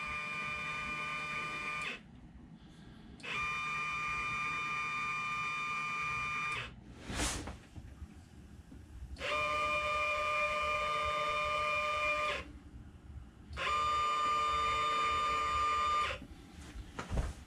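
Stepper motor driven by a MESA controller spinning, a steady electronic whine in several bursts of a few seconds each, separated by short pauses, faint and with no voices.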